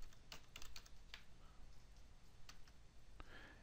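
Keys clatter on a computer keyboard as a command is typed, a quick burst of clicks up front, then scattered isolated taps over a low steady background hum, with no voices.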